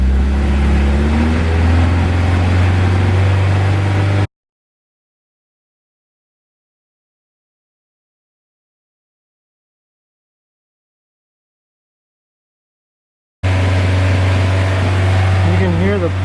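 Honda S2000 engine held at a steady elevated rev around 3,000 RPM while warming up, a loud constant hum heard in two stretches separated by a long silent gap, with a voice talking over it.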